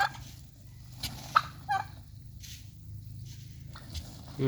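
An American Bronze turkey displaying with its tail fanned gives several short, faint gobbling bursts over a steady low background hum.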